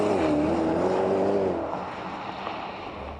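A 2010 Porsche Panamera accelerates hard to 100 km/h, its engine note climbing through gears, then fading to a quieter rumble.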